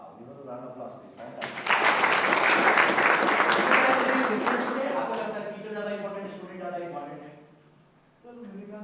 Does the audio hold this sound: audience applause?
yes